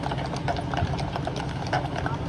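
Police horses wearing eye protection clatter through a riot, hooves clip-clopping in an uneven stream beneath a dense, noisy crowd wash with voices mixed in.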